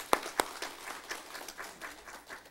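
Congregation clapping in a church, a couple of sharp close claps leading into soft, scattered applause that fades.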